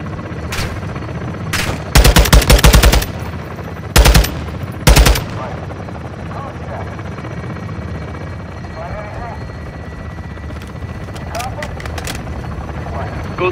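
A helicopter gun run in Modern Warfare II: rotor drone underneath while loud machine-gun bursts rip out in several short clusters early on, then the rotor continues alone with faint distant shots.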